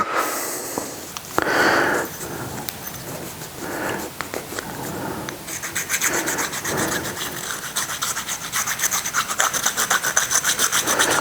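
Scraping muck and corrosion out of a carbon bike frame's bottom bracket shell with a hand tool, a steady close scratching and rasping that turns into quicker rhythmic strokes toward the end, with no talk.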